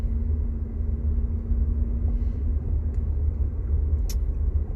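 Interior road noise from a car being driven, a steady low rumble and hum that stays constant throughout, with a faint tick or two and no speech.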